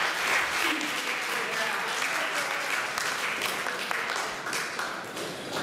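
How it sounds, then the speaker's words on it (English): Audience at a bar mitzvah gala applauding, dense sustained clapping that fills the room from start to finish and slowly eases near the end. "Give yourselves a nice round of applause."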